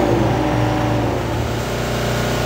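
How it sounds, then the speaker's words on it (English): The port engine of a 2009 Lagoon 500 catamaran at full throttle during a sea trial: a loud, steady roar with strong low harmonics, running hard and continuously for the whole stretch. "Full throttle, port engine."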